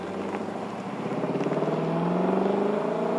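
Lexus LC 500 sports coupe driving, its engine note a steady rising drone with a rhythmic pulsing growl that builds gradually and stays close and loud throughout, no talking.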